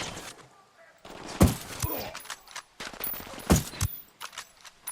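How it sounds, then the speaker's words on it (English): Gunfire in Ghost Recon Wildlands comes as two loud bursts of rapid shots about two seconds apart, with quieter rattling and crackle in between and some voice underneath. "Opening fire."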